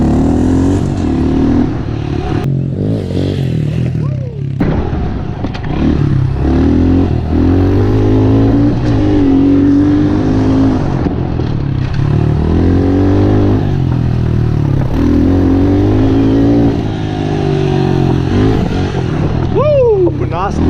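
A Honda CRF110F pit bike fitted with fat handlebars revs and accelerates while being ridden, its engine rising and falling in repeated loud pulls from close range, with small clatters between shifts.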